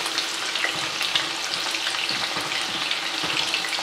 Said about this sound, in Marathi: व्यवस्थित आपण आपले प्रॉन्स फ्राय करून घ्यायचे आहे.